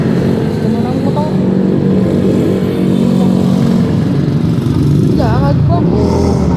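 Motorcycles pass on a busy street, engine drones and a rising rev sweeping by amid steady traffic noise, heard while walking, with people talking over it.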